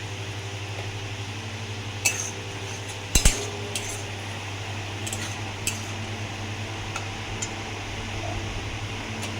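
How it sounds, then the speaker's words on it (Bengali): A spoon stirs Kashmiri chili spice paste with a little water in a pan over a gas flame, producing sparse metallic clinks and scrapes against a constant fan-like hum. "দেখুন বন্ধুরা, ভালো করে মশলাটাকে কষিয়ে নিচ্ছি।"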